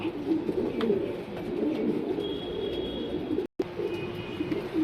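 Pet birds kept for sale cooing in a cage, soft repeated low coos with a few faint chirps, close and alone without talk.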